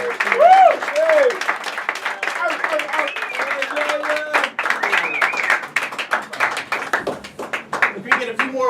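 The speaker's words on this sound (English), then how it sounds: "Big round of applause for Jason Hicks." An audience at a comedy show breaks into loud, sustained applause and clapping, with whoops and voices mixed in throughout.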